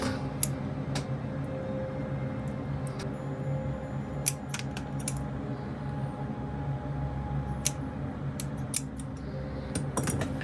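Scissors snipping shrink tubing on a model ship build, a few sharp, close clicks spaced irregularly over a low steady background hum, no talking.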